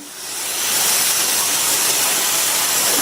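Dosa batter on a hot pan with a little oil added on top and around the edges gives a loud, continuous hissing sizzle that swells at the start and holds steady, close up and with no talk.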